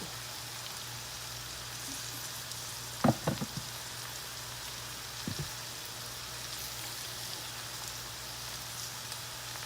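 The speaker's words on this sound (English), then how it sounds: "We're going to let that start browning good now before we turn it" Cornmeal-coated food fries in a pan on a Southern home stove, a soft, steady sizzle throughout, broken by a couple of brief clatters of handling near the middle, with no talking.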